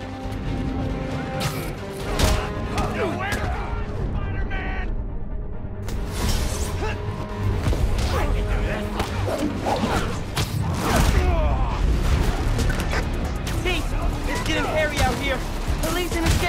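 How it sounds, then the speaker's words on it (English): Gunfire from drone UAVs in the Spider-Man: Miles Morales video game, sustained bursts of shots and crashing impacts layered over a dense game soundtrack for the whole stretch, with voices talking throughout. "UAVs are shooting it out!"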